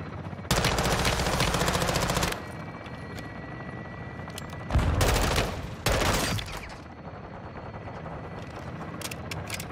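Gun-run gunfire in Modern Warfare II comes as long, loud bursts of rapid automatic fire, one lasting about two seconds and two shorter ones later, with a helicopter-like rotor drone and scattered shots between them.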